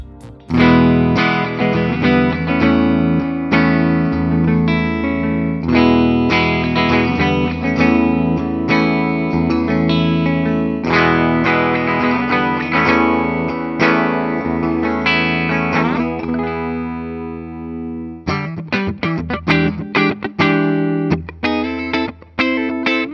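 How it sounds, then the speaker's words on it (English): A 1983 Gibson Les Paul Reissue electric guitar with Tim Shaw PAF pickups plays distorted chords and riffs through effects for over twenty seconds, loud and full, with sustained ringing passages broken by choppy stabs near the end; no voices. "So let's go ahead, plug it in, and hear how these Tim Shaw PAF sound"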